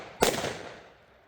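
An Achtung P1208 firecracker goes off once with a sharp, loud crack followed by a fading rumble, heard on its own.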